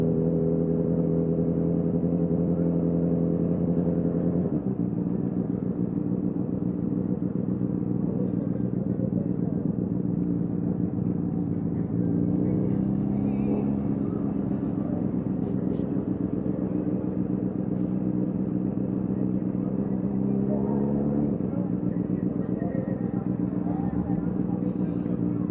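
Engines idle and rumble at a car meet with more cars than motorcycles, a steady low drone that shifts pitch around 5, 13 and 21 seconds as vehicles rev or pass, with faint voices in the background.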